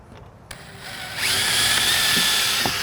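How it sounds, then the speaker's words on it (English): A power drill whirs steadily, pre-drilling into 3.5-inch-thick wood after a couple of sharp knocks, its high motor whine sustained and fairly close. "And same thing with the pre-drill."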